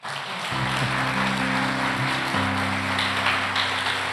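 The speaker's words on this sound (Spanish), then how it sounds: "Démosle un aplauso para motivarlos" Audience applause at a church gathering, a steady, dense wash of clapping throughout, with a sustained musical chord underneath.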